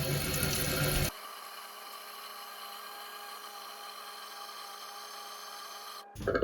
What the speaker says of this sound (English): wait for our water level to come up